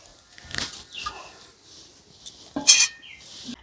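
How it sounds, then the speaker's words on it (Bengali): A metal stand is set down into a wok holding water, giving a couple of close metallic clanks and scrapes with a brief bright ring amid quieter handling, and no one speaks. "তার আগে আমি কড়াইতে জল দিয়ে একটা স্ট্যান্ড বসিয়ে দেব।"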